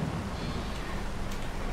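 Steady rainfall in the game Vintage Survival with a low rumbling undertone, a continuous wash of patter without voices.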